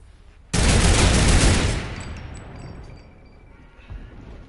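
Turret gunfire in a PS4 game: a loud sudden burst of rapid shots lasting about a second, fading into a noisy tail with faint metallic pings and a small thump later.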